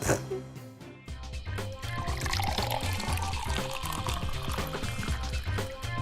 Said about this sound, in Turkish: Buraya süt dökeceğiz.